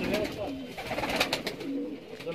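Pigeons coo softly and repeatedly nearby, low throaty calls over a faint background murmur.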